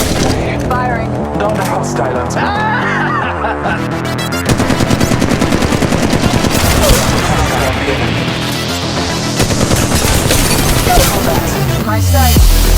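Gunfire in the mobile battle royale game Apex Legends Mobile, played against bots: rapid automatic bursts crackle loudly and near, continuing almost nonstop with sharp repeated reports, while a player talks over the action.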